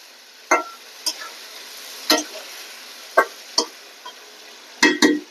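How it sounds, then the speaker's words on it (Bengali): Tomato paste frying in oil in a pan while being stirred for a fish curry: a steady faint sizzle under a series of sharp, irregular spoon scrapes and clinks against the pan, with no voices. "তেলের মধ্যে একটু ভাজা দিয়ে দিচ্ছি"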